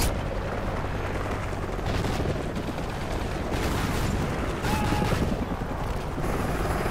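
An enemy Hind attack helicopter in Call of Duty Ghosts keeps up a loud, sustained rotor roar mixed with rapid bursts of gunfire and booming impacts, a dense nonstop battle din.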